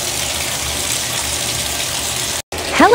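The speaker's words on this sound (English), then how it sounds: "Hot water." Hot water gushes from the tap into a bathtub in a loud, steady rush that cuts out briefly near the end, followed by a short voice-like sound.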